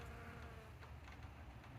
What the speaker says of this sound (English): check out these bees getting on these blueberries